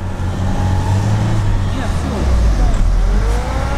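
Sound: off-road car accelerating

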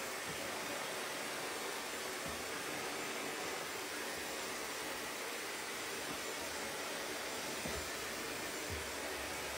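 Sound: hair blow dryer running

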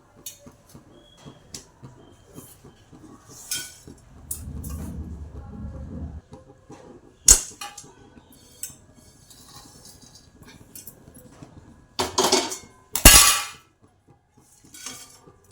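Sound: roasted coconut being poured out of the pan

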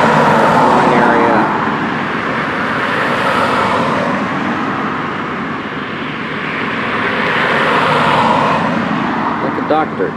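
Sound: police helicopter flying overhead

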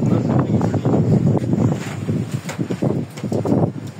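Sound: strong wind during a night storm

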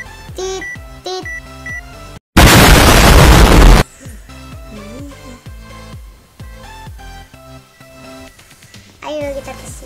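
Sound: bomb explosions in Roblox Destruction Simulator video game

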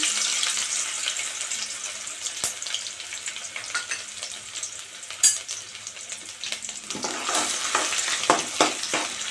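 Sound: garlic and ginger sautéing in hot oil

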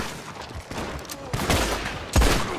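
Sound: gunfire in a western film shootout

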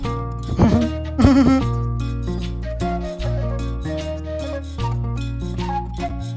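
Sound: goats bleating at village goat market

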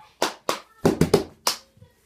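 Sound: hand clap in a song

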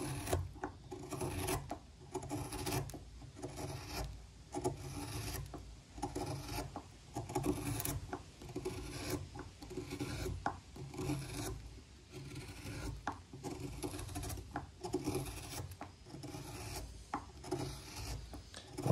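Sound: long bent gouge carving wood

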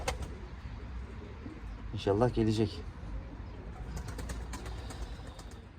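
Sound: pigeons cooing and flapping wings

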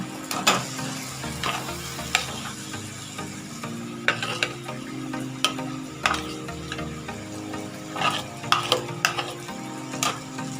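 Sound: stirring taro (mankochu) mash in a pan

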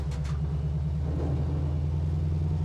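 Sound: 1968 Dodge Charger R/T engine idling with a lopey chop

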